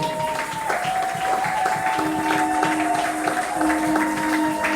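A church congregation applauds during a Sunday service, with steady clapping and cheering under sustained tonal music or singing that runs throughout.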